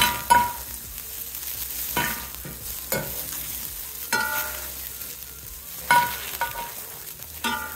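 Paneer being stirred and tossed with turmeric, salt and chili powder, a series of spaced scraping and clattering mixing strokes close up with a faint sizzling background, no talking.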